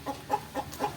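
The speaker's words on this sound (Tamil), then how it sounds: "இந்த கோழி பார்த்துக்கோங்க." A native country chicken clucks four times in a steady, even rhythm, close by and moderately loud over faint farmyard background noise.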